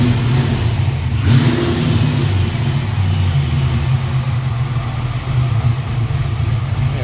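A 427W V8 engine in a Fox Body car idles steadily while warming up, its deep low rumble close and continuous with a slight rise in revs near the start.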